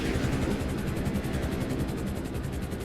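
A video game helicopter's rotor drone, steady and loud, with fast, even chopping pulses over broadband noise throughout.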